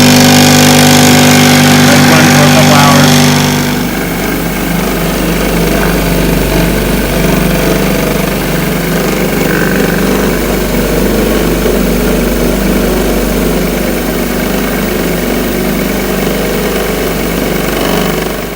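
A media tumbler polishing three-piece wheel bolts and nuts runs with a loud, steady mechanical drone and a constant rumbling vibration, changing tone a few seconds in and then holding even.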